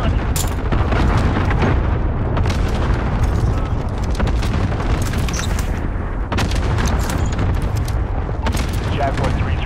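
Booming explosions and gunfire in the Call of Duty Modern Warfare video game as an enemy cruise missile strikes, loud rumbling blasts layered over dense battle noise, with voices talking underneath.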